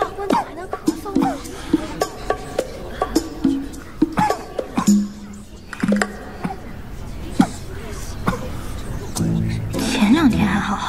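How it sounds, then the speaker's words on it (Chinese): During a traditional wedding ceremony, a groom gives a string of short, sharp coughs, scattered against the murmur and chatter of the guests around him and mixed with nearby speech. "新郎大官怎么还能咳嗽呢？"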